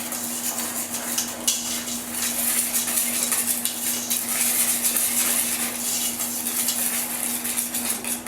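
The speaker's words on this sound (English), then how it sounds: "we're going to kind of just whisk this all together" Whisk scraping and clinking against a bowl as a cornstarch mixture is blended for homemade ice cream, a steady close rapid rustle with a constant background hum and no talking.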